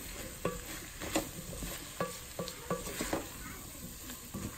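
Flour roux cooks in bacon grease in a pan. A steady, close sizzle runs throughout, and a spoon scrapes the pan in regular strokes about every half second.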